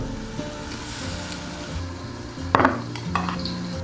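Metal lid set onto a wok of boiling water for steaming sea bass with cured pork over high heat, a sharp clink and clatter midway over a low bubbling hiss, close by.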